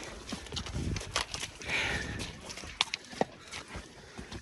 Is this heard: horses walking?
yes